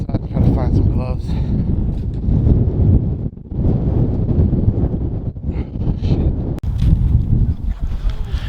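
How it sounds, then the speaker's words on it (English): Strong, cold wind outdoors on a homestead during a polar vortex buffets the microphone with loud, low roaring gusts nearly throughout, and a voice speaks close by. "that wind out there was outrageous"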